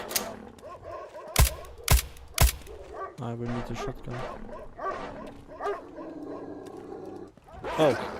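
In the Dark Skies 2 video game, dogs bark and yip in short bursts alongside loud impact-like thumps, while someone talks over part of it.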